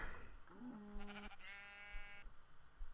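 Sheep in the Minecraft video game bleat in two close, nasal calls, the second longer and higher, sounding near and clear over faint background noise with no talking.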